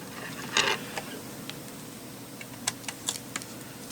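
Small screws are worked loose on a Kenwood KDC-X969 car stereo, heard as faint, scattered close ticks and clicks with one brief scrape near the start.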